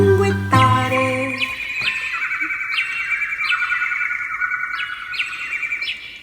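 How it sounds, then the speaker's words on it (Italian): A small bird in a spring setting chirps in a quick series of bright, clear tweets and trills, close and loud, with no other sounds. "poi si ferma a cinguettare"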